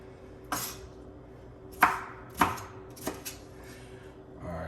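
A knife chops tomato into cubes on a cutting board, with about five sharp, separate knocks spaced unevenly over a few seconds against a quiet background.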